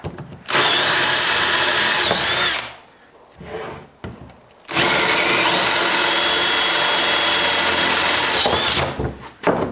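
A power drill bores through the metal edge of a Kubota tractor bucket in two long, loud, close, steady whining runs, separated by a short, quieter low whir.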